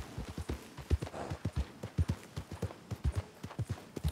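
Steady clip-clop of horse hooves at a walking pace in Red Dead Redemption 2, close and fairly loud, with an even two-beat rhythm and no talking.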